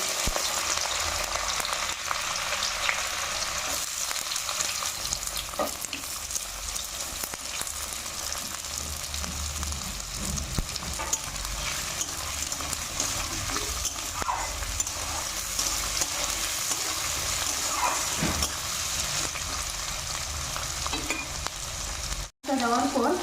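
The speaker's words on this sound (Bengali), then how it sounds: "তো পেঁয়াজটা ভালো করে লাল লাল করে আগে ভেজে নিই।" Whole spices with bay leaf, then onion, fry in hot oil in a home kitchen, a steady dense sizzle running throughout with occasional stirring scrapes and a brief cutout near the end.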